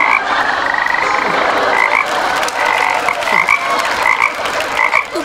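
A dense chorus of frogs croaks at night outdoors, loud and continuous, many overlapping calls with repeated chirping pulses and no speech.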